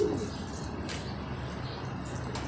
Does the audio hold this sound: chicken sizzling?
no